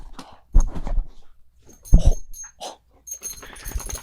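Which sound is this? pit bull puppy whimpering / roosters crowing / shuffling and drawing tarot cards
pit bull puppy whimpering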